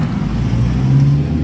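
Vehicles turning back through flood water during a flood in Zamboanga, with a steady, loud, close engine drone and low rumble that holds without a break.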